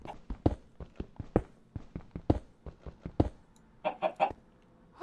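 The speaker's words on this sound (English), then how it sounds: "Hi, chicken." A chicken underground in a Minecraft cave clucks in a rapid, irregular series of short, close clucks, ending with a few higher, louder squawks, with no talking.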